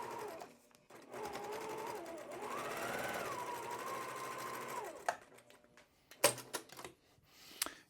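A sewing machine stitches through layers of quilt fabric, its needle chattering in a fast, even rhythm that rises and falls in pitch for several seconds. It then stops, followed by a few sharp clicks and handling noises nearby.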